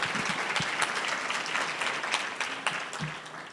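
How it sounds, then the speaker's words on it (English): A round of applause at the 25th annual Boston Public Schools valedictorians luncheon: a full room clapping steadily for several seconds, close and fairly loud, tapering slightly toward the end. "If we can give them a round of applause for helping to make this possible."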